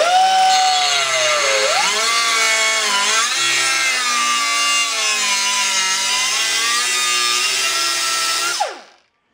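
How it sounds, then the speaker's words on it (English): A bandsaw cuts through a metal part for a Datsun 521 ball joint modification, a loud continuous whining screech with shifting pitch for about nine seconds before the cut ends and the sound stops abruptly. "Then I'll cut these two on the bandsaw."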